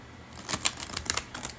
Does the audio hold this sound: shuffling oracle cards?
yes